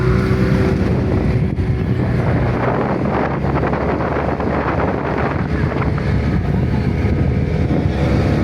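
A fiberglass boat's engine drones steadily at speed while heavy wind buffets the microphone throughout.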